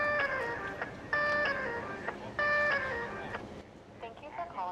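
Tinny electronic hold music on the Sally's Beats takeout phone line, short repeated melodic phrases in bright bursts with pauses between, heard down a telephone line.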